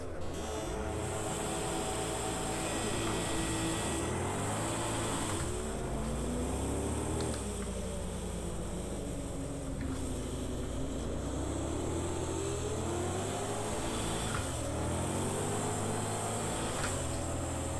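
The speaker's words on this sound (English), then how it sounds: "This almost sounds like a bi-turbo AMG vehicle rather than a supercharged LT4." A supercharged LT4 car engine in Project Cars 2, rendered so it sounds like a bi-turbo AMG. It holds a steady droning note that rises and falls with throttle, with a faint high whine over it and no talk.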